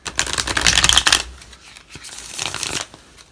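Tarot cards are shuffled in quick riffling bursts, close and crisp, with a short pause between two rounds of shuffling.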